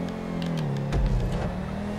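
A car driving over grass in GTA 5 during a custom race, engine droning steadily at close range with a brief louder surge of rumble midway.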